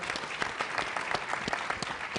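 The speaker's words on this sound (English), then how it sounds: "Let's give them all a round of applause again." Luncheon guests at a technology roundtable applaud the panelists, a quieter, slightly distant patter of many hands with distinct individual claps popping out throughout.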